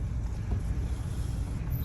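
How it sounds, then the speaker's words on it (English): Gusty wind buffets outdoors at a truck scale yard, a low, rumbling roar of air that pummels the microphone throughout. "it's too windy out"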